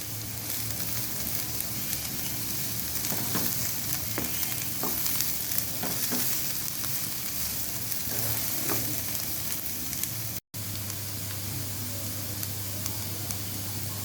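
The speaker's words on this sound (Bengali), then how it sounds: "এখন আমি এখানে ধনে পাতা কুচি দিয়ে দিচ্ছি ভালো করে মিক্সড করে নেব" Fried potato bhaji with chopped coriander sizzles in a pan under a constant hiss, while a utensil stirs it with soft, irregular scrapes and clinks. The potatoes are cooked until slightly charred.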